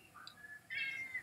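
A cat meows in a video being played back: a short, thin cry followed by a longer, louder meow, with no voices over it.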